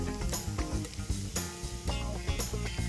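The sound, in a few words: onions sizzling while frying until golden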